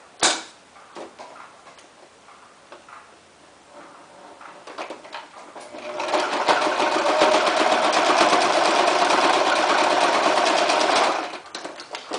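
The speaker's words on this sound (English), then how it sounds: "I may as well just sew the other side down really fast." A sewing machine quickly sews down the side seam of a fabric onesie extender, a close, loud whirring run of rapid stitching lasting several seconds after quieter handling noises and clicks.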